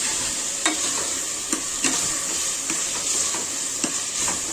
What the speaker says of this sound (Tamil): நம்மளோட கறி வந்து சேர்த்துக்கலாம். சேர்த்துட்டு நல்லா வதக்கிக்கலாம்.